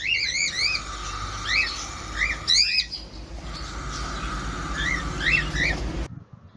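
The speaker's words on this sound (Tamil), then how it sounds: "இந்த கூடில் இருக்க பானையில் பார்த்தீங்கன்னா ஒரு காக்டெயில் குட்டி இருக்குது" A cockatiel chick in a clay nest pot gives repeated bright, rising chirps in short bursts, close and clear, with pauses between groups over a soft background hiss.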